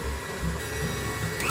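An electric mixer whirs on low speed through chocolate cupcake batter, a steady close motor hum with slight changes in tone as the beaters move.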